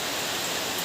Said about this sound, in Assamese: এস্থেটিক ভাইব এটা দিবলৈ বৰষুণ যদি আছিলে তাকো দেখাই দিছোঁ